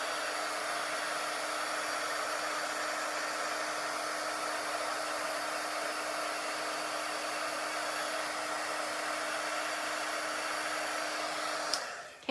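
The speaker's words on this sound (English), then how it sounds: "Once it starts melting, then you can move your heat gun." Heat gun blowing steadily on velvet paper to melt embossing powder, a loud constant broadband whoosh with a faint hum, running alone for about twelve seconds before clicking off at the end.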